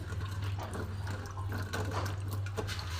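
Thinly sliced radish is washed under running water for a fish curry with vegetables, giving a soft, steady splashing and trickling with faint drips over a low background hum.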